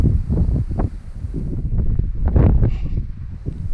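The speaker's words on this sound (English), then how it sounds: "Sorry about the wind, it's just the time of the year." Wind gusts buffeting the microphone in an open grass pasture, a steady low rumbling roar with surging peaks, loud and close throughout with no talking.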